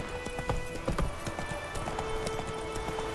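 Horse hooves clip-clop at a steady gallop in the fantasy RPG The Witcher 3, with the rhythmic beats close and clear over a soft ambient game backdrop.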